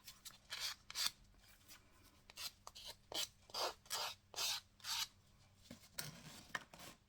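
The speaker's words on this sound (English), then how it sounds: "I might use the sanding block to make those edges a bit more round" Repeated short scraping rubs, about a dozen strokes in quick irregular bursts, close and fairly quiet, as a sanding block rasps across the edges of a paper card to round them.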